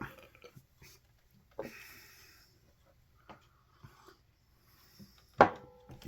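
A person burps in several short, faint bursts scattered through a quiet room, ending with one louder, throaty belch near the end.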